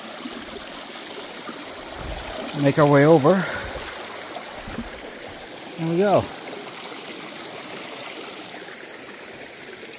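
A brook on a trail runs with a continuous, steady babbling wash close by, while someone talks briefly twice over the flowing water.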